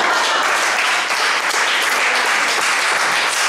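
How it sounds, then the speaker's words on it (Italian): A literary festival audience applauds continuously, a thick, even wash of clapping that stays loud and unbroken from start to finish with no voices over it. "Potete applaudire."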